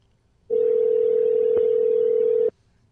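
A steady telephone dial tone sounds alone for about two seconds, loud and unbroken, then stops abruptly.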